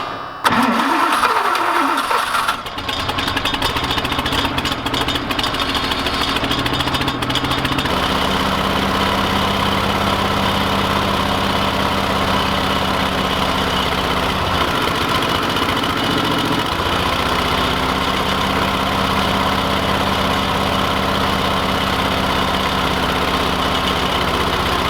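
The diesel engine of an abandoned, finicky Bros SP-54 roller cranks and catches, then settles into a loud, steady idle with slight shifts in pitch, heard close with no talking.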